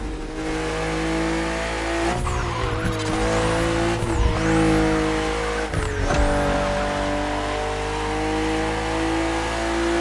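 A BMW M4 CSL in The Crew Motorfest racing game drives hard, its loud engine revving and shifting gears over about ten seconds, with brief tire squeals at each shift.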